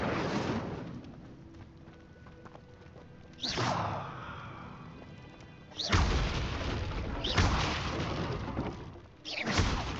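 In the Hogwarts Legacy video game, the Incendio fire spell is cast repeatedly, with several loud whooshing, booming bursts of flame that flare up suddenly and then roar and fade, recurring every few seconds.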